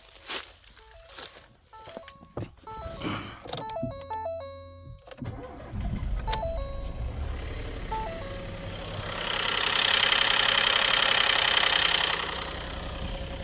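A 2019 Ford EcoSport with no oil pressure cranks and starts, its engine knocking and rattling while warning chimes beep over it. The engine then revs louder with a broad roar near the end.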